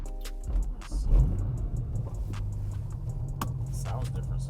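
A modified, race-built car engine cranks and catches, then settles into a low, steady idle close by while people talk over it.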